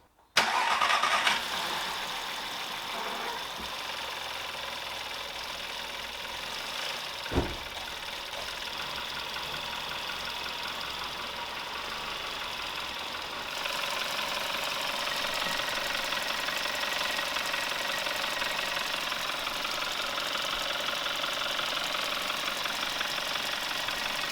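An Audi A3 TFSI engine cranks and catches, then settles into a steady, slightly knocking idle with the coolant expansion tank cap open, continuing for a long stretch with a small rise in level partway through.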